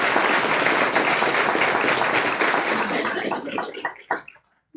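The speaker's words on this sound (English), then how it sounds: "Please, let's give them a round of applause." Applause from an audience at a board of education meeting, steady dense clapping for about four seconds before thinning out and fading to silence.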